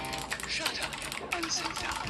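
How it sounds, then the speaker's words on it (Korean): A Micronics MAINC X48 optical mechanical keyboard in mint white with crystal keycaps being typed on: a quick, steady run of bright clicky keystrokes that stays close and fairly loud, with a slight pause near the middle. "야, 이래서 사람들이 키보드를 좋은 걸 쓰는구나 소리 자체가 틀리네"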